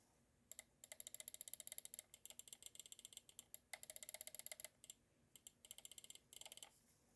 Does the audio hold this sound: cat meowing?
no